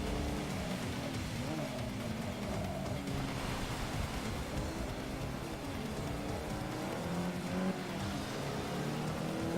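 Race car engines in Forza Motorsport 6 at Brands Hatch, a faint continuous drone with rising and falling revs as the car accelerates through corners, other cars audible around it.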